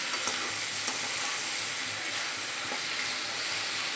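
Spice paste sizzles in a pan with red amaranth greens and peanuts, a steady close hiss of frying with a few light stirring clicks near the start and no talking.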